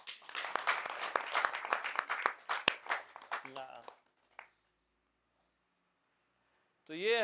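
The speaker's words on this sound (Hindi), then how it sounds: "बहुत सुंदर, तालियां।" An audience at a spiritual satsang gathering claps together in dense, lively applause for about four seconds before it abruptly stops; after a stretch of silence a voice briefly begins to speak.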